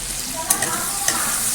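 Loud close sizzle of vegetables frying in a pan with turmeric and salt, with a couple of quick utensil scrapes over the steady hiss.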